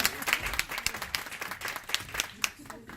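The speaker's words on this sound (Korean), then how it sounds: "박수로 모시겠습니다" Warm applause from a church congregation welcomes a pastor at a Way Church service in Hongdae, a crowd of many hands clapping steadily at mid distance for the whole stretch.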